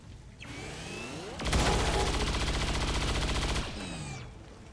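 Rapid automatic gunfire in XCOM 2, a dense, loud burst of shots lasting about two seconds, set against a steady game soundscape of whooshing tones before and after.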